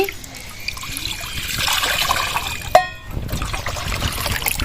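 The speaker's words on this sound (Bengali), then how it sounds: "প্রথমে জল দিয়ে দিচ্ছি" Water poured from a vessel onto raw potatoes in a bowl while washing them for homemade potato chips, a close, steady trickling splash with a brief clunk midway, alone without talk.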